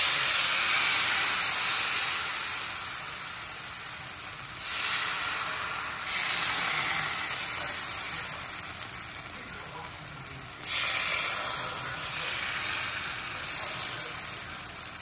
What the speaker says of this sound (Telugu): చూడండి, నీరు దోశ వేస్తున్నాను.